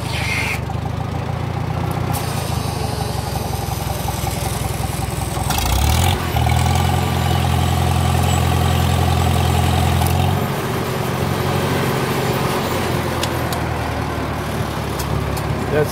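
A Farmall H tractor engine runs steadily at close range with a deep, throbbing idle; its pitch and loudness shift for a few seconds midway as the throttle is adjusted, then settle back to a steady running rumble.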